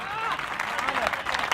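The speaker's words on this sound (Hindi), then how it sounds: "तालियां बजाओ जरा एक बार जोरदार" Audience clapping at a Hindi kavi sammelan poetry gathering, a steady, fairly dense round of applause throughout, moderately loud and unbroken, with no voices above it.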